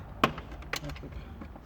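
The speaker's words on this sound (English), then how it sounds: "And then your door window, unclip." Plastic clips popping loose as a door window panel is pried off a Toyota 86, two sharp snapping clicks close up followed by fainter taps and handling noise.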